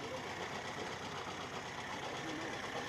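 An Austin 7 car engine idles steadily, a continuous rough, close mechanical rumble with light knocking texture that holds even throughout.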